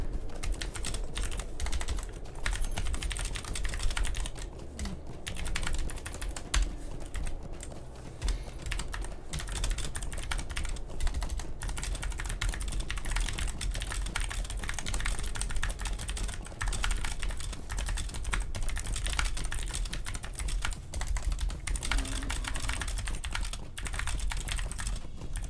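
Rapid, continuous typing clatters on a computer keyboard during an online game session, close and steady for about twenty-five seconds with no speech.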